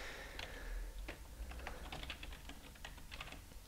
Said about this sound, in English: I'm always typing my password wrong